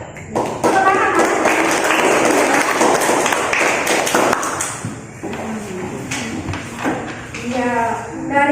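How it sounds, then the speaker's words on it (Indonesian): A classroom of students applauds a student group, clapping loud and close for several seconds before thinning out, while voices talk over the tail end. "tepuk tangan untuk kelompok petir ya"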